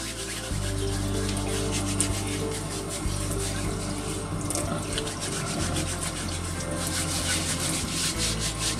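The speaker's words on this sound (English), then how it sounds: "the poly scrubbers are working into every area of my hands" Hands being scrubbed with Mechanic's Choice poly scrubber hand cleaner to lift grease and oil, a continuous close gritty rubbing that keeps going with slight shifts in rhythm, alone with no talk.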